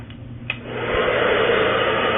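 A hair dryer blow-drying hair with the head flipped over kicks in after a faint click and settles into a steady, close, loud rushing whoosh that holds to the end.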